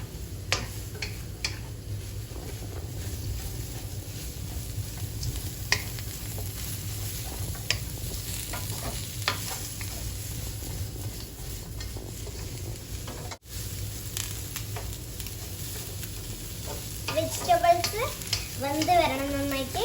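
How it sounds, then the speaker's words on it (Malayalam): Carrot, capsicum and cabbage are stirred for chicken noodles in a pan over a low flame. Soft sizzling runs throughout under scattered spoon clicks and scrapes, and a voice is heard briefly toward the end. "നന്നായിട്ട് മിക്സ് ചെയ്യാം. ഒരു ലോ ഫ്ലെയിമിൽ വെച്ച് നല്ലപോലെ ഒന്ന് ലോ ഫ്ലെയിമിൽ വെച്ചാൽ മതി"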